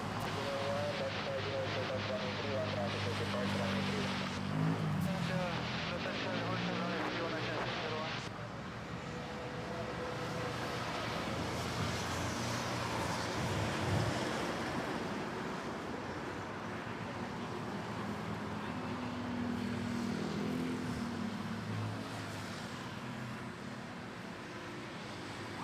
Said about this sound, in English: Cathay Pacific A330 making its way to '06.